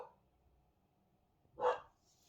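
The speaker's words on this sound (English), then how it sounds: "Apologies for my dog." A single short dog bark sounds from across a quiet room, standing alone against faint background hum.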